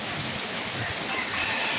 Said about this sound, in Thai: วันนี้ฝนตก นะครับ น้ำโอ้โห น้ำท่วมครับ